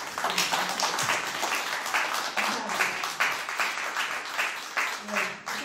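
Audience applause for a speaker at a talk, made of irregular hand claps under a voice that carries on throughout.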